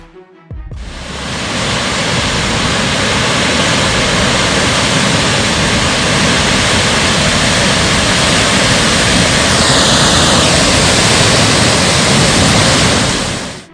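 Floodwaters from rivers overflowing after heavy rain in South India rush with a loud, steady roar of churning water, unbroken throughout, with no voices.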